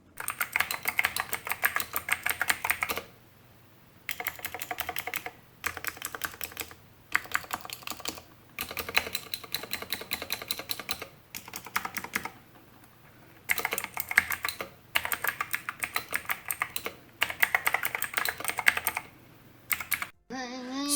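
Rapid, clacky typing on a mechanical keyboard with tape, foam and lube mods comes in bursts separated by short pauses, close and crisp, with no voices.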